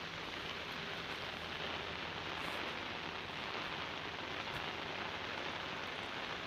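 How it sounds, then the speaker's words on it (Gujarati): Heavy rain pours steadily at Mendarda near Junagadh in Gujarat, a dense, unbroken wash of falling water drumming on surfaces at an even level throughout. "જૂનાગઢના મેંદરડામાં ધોધમાર વરસાદી માહોલ જામ્યો છે"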